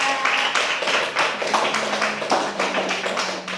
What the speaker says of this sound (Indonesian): Berikan tepuk tangan dulu ke Delia.